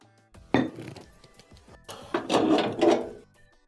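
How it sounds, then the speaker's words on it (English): Metal gas range burners and caps are lifted off a stove, giving a few scattered clinks and clunks close by, uneven and brief. "Next, we'll need to remove all the burners and caps."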